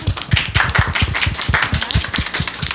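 Applause from a live audience honouring a musician on a talk show set, a steady patter of claps with some low thumping beats underneath, continuous and fairly loud for a few seconds.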